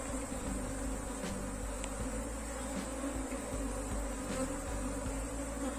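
Honeybees swarm around an open beehive during hive splitting, making a dense, continuous close-up buzz with individual bees droning past, and no voices.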